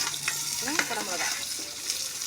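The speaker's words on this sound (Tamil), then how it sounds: "வெங்காயம் போட்டுக்கலாம், நல்லா மிக்சிங் பண்ணி விடுங்க" Onions sizzle steadily in a hot pan for vegetable biryani, a continuous close frying hiss with brief stirring scrapes over it and no talk.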